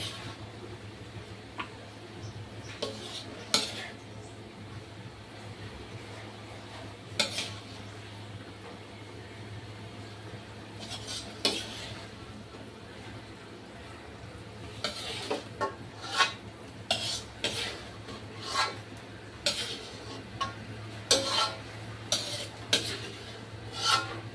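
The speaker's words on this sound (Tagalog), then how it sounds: "Haluin na natin guys ang ating gulay" A utensil scrapes and stirs vegetables in a pan for Filipino bam-i noodles, with repeated rasping strokes and clinks that grow more frequent and rhythmic toward the end, close and fairly loud over a steady low hum.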